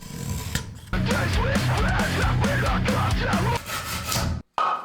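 Steady back-and-forth rasping of a hand saw cutting wood at a 45-degree angle, loud and close, with a brief pause near the end.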